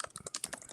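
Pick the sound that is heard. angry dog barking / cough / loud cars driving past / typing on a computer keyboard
typing on a computer keyboard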